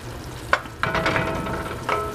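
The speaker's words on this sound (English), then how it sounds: "So now we got a nice little simmer going on" A pasta sauce with sherry simmers and sizzles in a pan, a steady close crackle with a few stirring scrapes on top.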